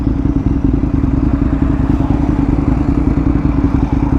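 Aprilia RSV1000R motorcycle engine running loud and close, a steady throbbing V-twin drone holding fairly constant across the clip with no talk.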